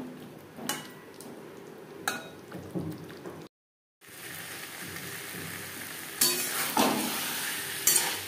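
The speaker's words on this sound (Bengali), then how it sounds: "মশলার সাথে আলু বেশ ভালো করে মিক্সড করে দেব।" Fried potatoes are stirred into cooked spice paste in a pan for niramish alur dum, with soft scrapes and a quiet sizzle, a brief silent break, then louder frying.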